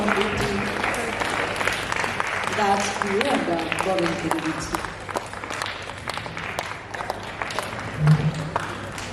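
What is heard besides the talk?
audience applause at a felicitation ceremony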